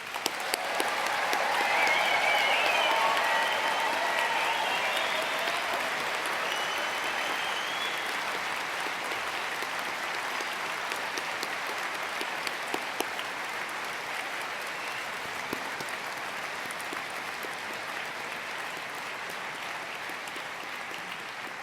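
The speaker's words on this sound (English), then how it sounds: "please join us in giving all recipients of awards and prizes a final round of applause" A large graduation ceremony audience applauds award and prize recipients in a long, steady wash of clapping that swells early and then slowly fades over about twenty seconds.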